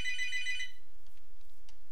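Telephone ringing in a house, a bright electronic ring burst lasting under a second, then quiet room with faint small clicks.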